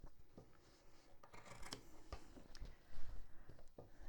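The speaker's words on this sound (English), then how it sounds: "just make a little snip." Quiet snips of scissors cutting fabric for a zipper pocket with a window facing, several short crisp cuts scattered among faint rustling of cloth, close and soft, with no talking.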